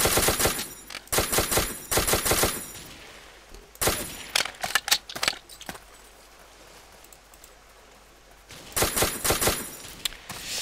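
Rapid bursts of gunfire in the blocky shooter game Ace of Spades, sharp loud cracks in dense clusters separated by quieter gaps, with a long lull in the middle before another volley.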